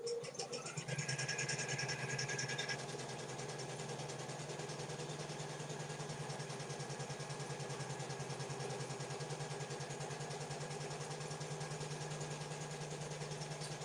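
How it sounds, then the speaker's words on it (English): A domestic embroidery machine stitches a decorative bow piece, giving a steady, continuous mechanical hum with a fast even stitching rhythm that runs uninterrupted throughout, moderately loud and close, with a brief higher whir near the start. "I will go ahead and start stitching"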